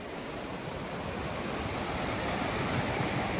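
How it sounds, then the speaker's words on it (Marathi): Sea waves washing ashore make a continuous broad rushing surge that swells slightly louder toward the end, heard close with no voices. "लाट आली बाबा. पला लाट आली."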